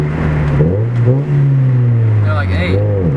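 A 2000 Honda Civic EX engine revs up and settles in a few close, loud swells, its tone rising and falling in quick succession.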